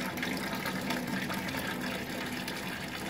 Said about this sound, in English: I'm gonna turn my auto draw valve open. That valve is opening.